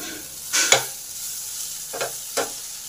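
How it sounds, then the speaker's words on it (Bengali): Potatoes, drumstick stems and onions fry together in a pan with a low continuous sizzle, broken by a few sharp scrapes and knocks of stirring nearby. No one speaks. "আলু ডাঁটা পেঁয়াজ সব আমার ভাজা ভাজা হয়ে গেছে"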